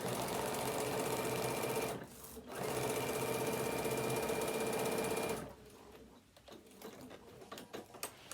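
A sewing machine stitches a fabric tablet holder in a steady, continuous whirring run close by, pausing briefly once, then stopping as quieter handling noises follow.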